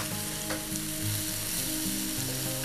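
Chopped onions and curry leaves fry in a pan for a spicy Andhra chicken fry, a loud, continuous close sizzle with bubbling crackle throughout.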